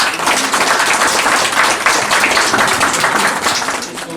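An audience at an Uttarakhand community gathering in Gurgaon claps warmly to welcome a speaker, a sustained, dense patter of many hands that stays steady throughout.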